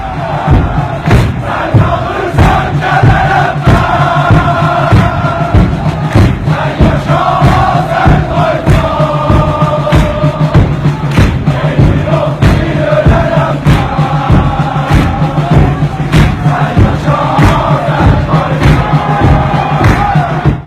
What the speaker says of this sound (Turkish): Bakü Tebriz Ankara, Biz Hara, Farslar Hara tezahüratıyla da Türkiye'ye ve Azerbaycan'a selam gönderiyorlar